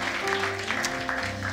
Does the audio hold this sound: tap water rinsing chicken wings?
no